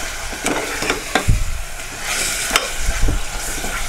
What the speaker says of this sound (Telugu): మటన్ వేసుకున్నాం కదా, ఇప్పుడు దీన్ని పైకి కిందకి తీసుకోవాలి.